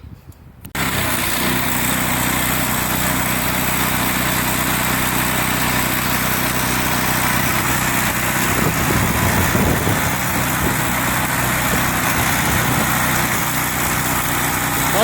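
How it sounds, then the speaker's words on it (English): A Hudson Patriot sawmill engine starts and runs steadily while milling the first log, a loud continuous buzzing motor drone with a rougher surge near the middle as the blade works through the wood. "Hudson Patriot sawmill, first cut."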